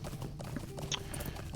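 Horse hooves clip-clopping on the ground in Lord of the Rings Online, a quiet, fairly rapid run of hoof knocks from a riding mount, alone with no talk.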